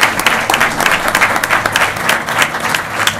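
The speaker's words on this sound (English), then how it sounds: "a quick round of applause." A crowd at a school board of education meeting applauding steadily, dense clapping that holds at an even level throughout.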